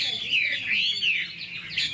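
A red-whiskered bulbul sings in continuous, sweeping high warbles across the whole stretch, moderately loud and close, with a faint low rumble of background noise beneath.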